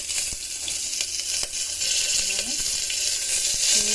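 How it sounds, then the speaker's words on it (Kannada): Curry leaves dropped into hot oil, a continuous crackling sizzle with scattered sharp pops, close and moderately loud, with faint kitchen clinks underneath. "ಇದಕ್ಕೆ ನಾನು ಇವಾಗ ಕರಿಬೇವು ಹಾಕ್ತಾಯಿದ್ದೀನಿ."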